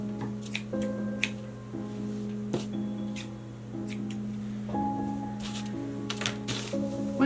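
Scissors snipping through strands of a Dollar Tree mop, a series of crisp, irregular cuts and rustles close by over a steady low hum.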